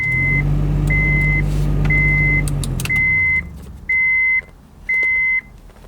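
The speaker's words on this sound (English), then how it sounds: "Let's throw our key in and make sure everything powers on" Key-on in a Honda Accord CB9 wagon: a steady engine hum fades out while a close, loud dashboard chime beeps in a regular on-off pattern, about six evenly spaced tones.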